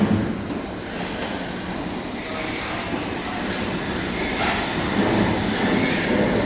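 A London Underground train runs through a platform at Moorgate without stopping, a loud continuous rumble and rush of wheels on rails that swells slightly as it passes close by.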